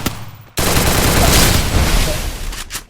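Gunfire in a Free Fire custom room match: a burst of rapid, loud shots kicks in after a short quiet start and continues densely for over two seconds before tapering off.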